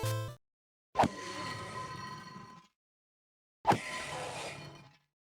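Game sound effects for a mechanized sawblade built in vanilla Minecraft: two separate bursts, each a sharp metallic crash followed by a ringing, grinding decay lasting over a second, with a short clipped sound at the very start.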